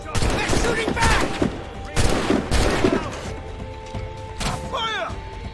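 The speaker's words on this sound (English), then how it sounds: "They're shooting back!" Ship cannon and gunfire exchanged in a naval battle in Assassin's Creed Rogue, several heavy booming volleys over shouting voices and battle noise.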